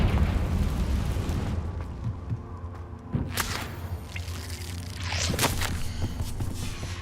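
A Confringo blasting spell goes off in Hogwarts Legacy, a couple of sharp bursts around the middle over a steady rumbling game ambience, followed later by a second loud crackling blast.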